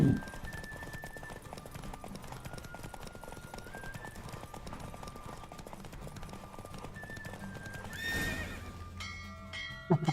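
Steady clip-clop of hooves under a rumbling soundtrack in a horse race in The Witcher 3: Wild Hunt, then a loud horse whinny near the end followed by a few sharp clattering hits.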